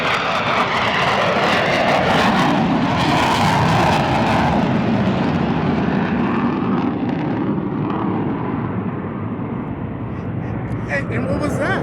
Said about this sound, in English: And we got another one of those noisy airplanes going by.